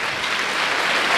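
A congregation at a church service breaks into welcoming applause, a dense and even wash of many hands clapping together without pause.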